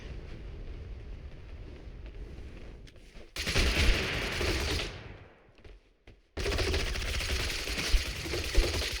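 Rapid bursts of gunfire in the video game Totally Accurate Battlegrounds, two loud sustained volleys separated by a near-silent gap, over a busy low rumble of game noise.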